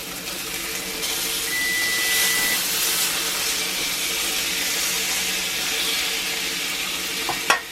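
Steaks sear in a cast iron pan, a steady loud sizzle and hiss lasting throughout with no talk, ending in a brief clack near the close.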